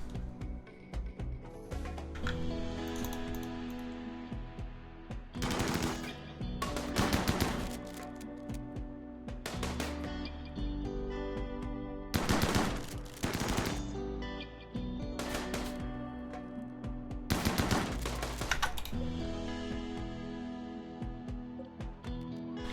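Bursts of rapid gunfire from colonists defending against an attack in the video game RimWorld come in several loud, dense volleys of a few seconds each, separated by short gaps, with no talking over them.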